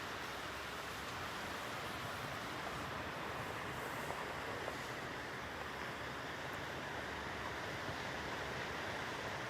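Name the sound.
ocean waves breaking on the beach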